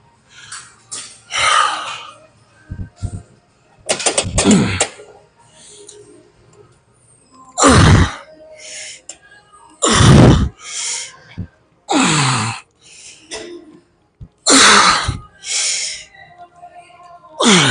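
Heavy, gasping breaths after a set of lat pulldowns at the gym, loud and close, coming in bursts of several hard exhales and inhales with quieter gaps between them.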